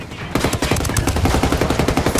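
Rapid automatic gunfire from cartel enemies in the game Ghost Recon Wildlands, loud and close, a steady stream of sharp shots that begins abruptly and continues without pause.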